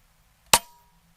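A single sharp crack from an Air Venturi Avenger .25 airgun shot striking a steel target, loud and close with a brief ringing tail, then near silence.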